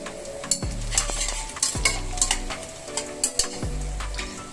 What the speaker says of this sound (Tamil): இப்போ அடுத்தது நம்ம இந்த 2 பச்சை மிளகாய் சேர்த்துக்கலாம்.